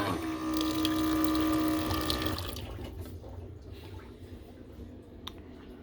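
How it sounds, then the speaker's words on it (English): A small camper sink pump hums loudly as running water pours into the basin, then the pump cuts off, leaving quieter dripping and a sharp click near the end. "You got running water for right now."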